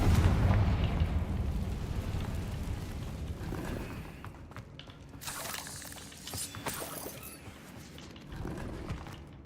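The Confringo fire spell in Hogwarts Legacy lets off repeated rumbling blasts and crackling bursts, mixed with clanking game effects at moderate loudness, one rough impact after another.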